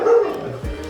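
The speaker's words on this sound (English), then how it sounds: "Oh, the dog." A dog gives a short bark close by, a single sharp yip that trails off into a low whimper.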